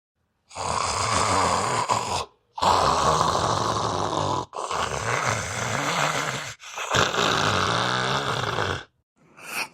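Cartoon snoring, loud and close, in four long rasping breaths separated by short silent gaps, with no talk over it.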